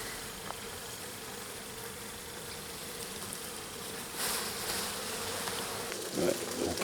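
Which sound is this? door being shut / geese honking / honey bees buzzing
honey bees buzzing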